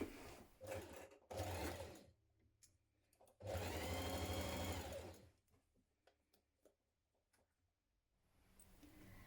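A sewing machine stitches a 1 cm side seam on a Donny shirt in several bursts of steady, rapid whirring, the longest lasting almost two seconds, with quiet fabric handling in the pauses between runs.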